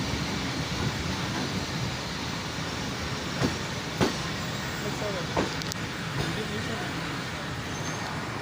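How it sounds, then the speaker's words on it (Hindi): The 16 Dn Karachi Express pulls into Sahiwal railway station in Pakistan: a broad, steady rumble of rolling railcars with a few sharp metallic clanks and squeals standing out over the continuous noise. "sixteen down Karachi express arrival कर रही है साहिवाल रेलवे स्टेशन पर"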